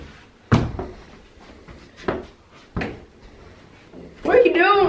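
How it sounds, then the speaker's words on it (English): Several dull thuds of a door shutting, spaced a second or two apart, with faint voices between and a dog whining near the end. "Close the door."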